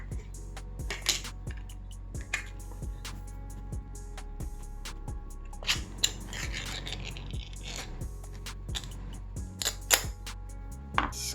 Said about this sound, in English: let's crack open our Spam.